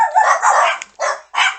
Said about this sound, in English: Sorry, the dogs are going off again.